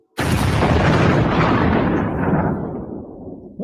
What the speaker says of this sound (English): Explosion in Tehran.